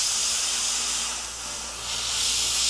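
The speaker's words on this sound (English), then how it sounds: "Just working very carefully with the airbrush, pulling back on the trigger a little bit" Fine, steady hiss of an Iwata CM-SB Micron airbrush with a 0.18mm needle spraying paint on a Star Wars Legion stormtrooper miniature, close and continuous, dipping briefly as the trigger eases back, no talking.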